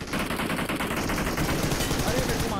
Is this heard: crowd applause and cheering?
no